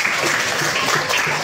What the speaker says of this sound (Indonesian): Tepuk tangan dulu untuk Pak Alim.